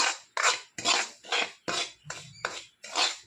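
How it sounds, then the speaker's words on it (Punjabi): Semolina roasting in ghee in a pan is stirred with a utensil in eight regular scraping strokes, each a loud, close rasp with brief pauses between. "ਹੁਣ ਅਸੀਂ ਚੰਗੀ ਤਰ੍ਹਾਂ ਸੂਜੀ ਨੂੰ ਭੁੰਨ ਲਵਾਂਗੇ"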